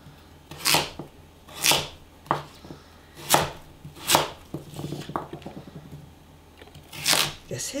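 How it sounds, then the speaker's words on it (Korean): A knife chops watery autumn radish into cubes for kkakdugi, each stroke a crisp, wet crack spaced about a second apart, close and fairly loud, with someone talking faintly in between. "가을무는 이 칼질이 칼 들어가는 소리가 틀려"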